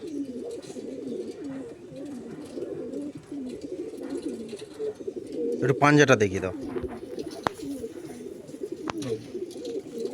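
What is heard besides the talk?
Madrasi pigeons cooing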